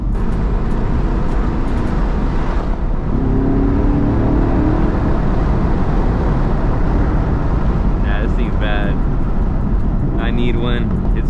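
Stock 2019 Chevrolet Camaro SS 1LE engine rumbling loud and close, with a few sharp rev-match blips and crackling pops near the end, while people talk over it.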